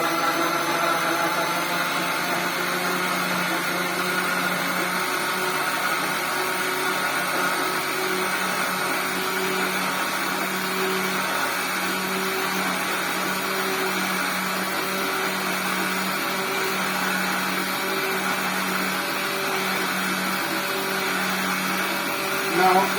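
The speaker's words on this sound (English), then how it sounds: "You put on your blender for about a minute or so." An electric blender whirs steadily for over twenty seconds, whipping strawberry pancake batter in a continuous, even, loud drone with no pauses.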